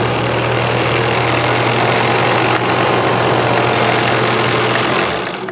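A vintage high-speed sewing machine, one of the fastest made at around 6,000 stitches per minute, runs flat out with a steady, loud, dense whirring drone that cuts off near the end.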